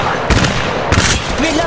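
Loud, close bursts of weapon fire from Apex Legends Mobile, two sharp shot clusters in quick succession over a steady, noisy game backdrop.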